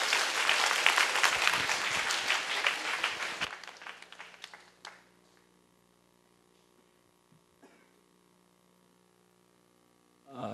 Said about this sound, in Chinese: 我们用热烈的掌声来欢迎我们的主任牧师林牧师来为我们分享今天上帝的话